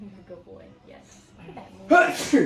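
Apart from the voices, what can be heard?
sneeze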